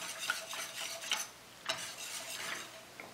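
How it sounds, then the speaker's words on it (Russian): A spoon stirring a chicken aspic mixture with gelatin and vinegar in a pot, soft scraping and clinking strokes repeating at an uneven pace, close and quiet. "Хорошенько перемешиваем."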